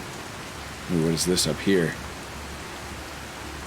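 Steady rain falls in the Skyrim video game, an even hissing wash running the whole time beneath a short spoken remark in the middle.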